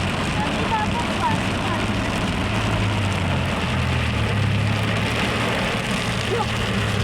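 Heavy rain drums steadily on a car, a dense unbroken wash that the wipers cannot keep up with, with a low engine rumble underneath and voices talking over it.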